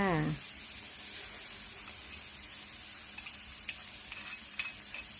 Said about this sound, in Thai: ผัดหมูกับกระเทียมให้หมูสุกพอสุกพอเซ็ตตัวค่ะ